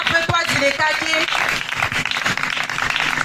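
An evangelistic crusade congregation applauds and cheers for the Lord, with steady loud clapping from a large crowd under an amplified preacher's voice.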